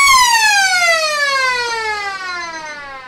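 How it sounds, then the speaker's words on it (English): Quarter-time siren at a country Australian rules football match, one loud, shrill electronic wail that slowly slides downward in pitch over about three seconds, heard alone. "the siren has gone"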